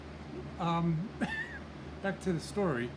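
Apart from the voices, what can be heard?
cat meowing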